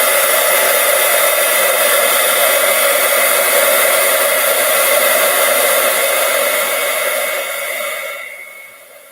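A heat tool blasts loud and steady, close up, melting embossing powder on a craft tag held in tweezers, a constant hair-dryer-like roar that fades out near the end.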